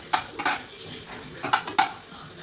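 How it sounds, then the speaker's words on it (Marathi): Heated milk being stirred into a lentil mixture in a pan. A spoon scrapes and clinks against the pan in short bursts, two early and a quick cluster later, over a quiet background. "हे दूध आपण आता या डाळीमध्ये घालणार, या मिश्रणामध्ये घालणार."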